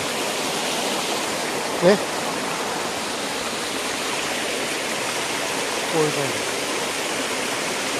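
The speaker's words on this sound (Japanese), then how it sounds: "これ山水が直接流れてきてるのちゃうかな" Steady rushing of a mountain stream near a waterfall fills the scene, with a couple of brief voice remarks heard over the constant wash.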